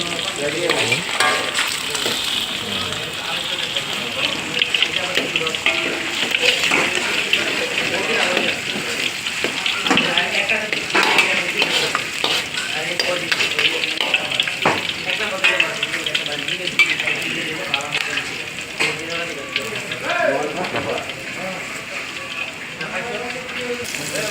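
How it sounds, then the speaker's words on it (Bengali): Onions fry in a pan for egg biryani with a dense, steady sizzle and stirring scrapes that continue throughout, mixed with speech. "পেঁয়াজগুলো একটু লাল করে বাদামি কালার করে ভেজে নেবো"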